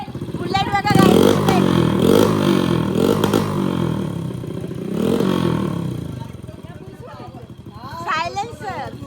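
A Royal Enfield Bullet motorcycle thumps and revs nearby at a village temple fair as it moves off, its engine rising and fading in pulses while people talk over it.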